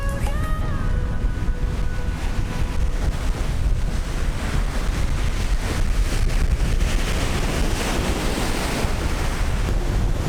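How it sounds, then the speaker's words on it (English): Strong wind and big surf at Dahican coconut beach on a very windy midday, a constant roaring wash of crashing waves with heavy wind buffeting the microphone throughout, no voices. "Such a huge waves already in the middle of the day."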